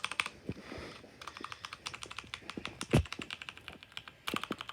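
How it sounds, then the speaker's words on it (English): Rapid clicking keystrokes on a mechanical keyboard with Cherry MX Brown switches, a fast, uneven patter of close, fairly soft clacks with one heavier thump, and no voices. "these are one of the quietest keyboards because these have Cherry MX Brown."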